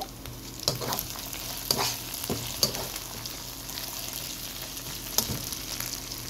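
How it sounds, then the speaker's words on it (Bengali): Ginger and garlic for mutton rezala fry in hot oil with a continuous close sizzle, punctuated by several distinct scraping strokes of a spatula against the pan. "আমার আদা রসুনটা ভাজা ভাজা হয়ে আসছে।"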